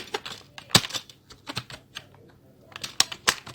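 Clacky keystrokes on a computer keyboard, typed in irregular bursts of taps with short pauses between, close and moderately loud with no voices.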